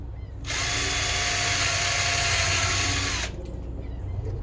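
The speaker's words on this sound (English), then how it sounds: "Put it with the drill. Here we go. Drill some holes." A power drill whirs steadily for about three seconds as it bores into a thin pine board, starting and stopping abruptly, with no voices.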